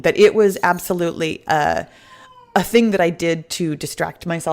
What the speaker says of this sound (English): I know you can hear her meowing in the background